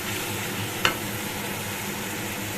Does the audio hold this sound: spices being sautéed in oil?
yes